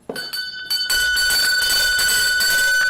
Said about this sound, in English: But I get the bell for Rick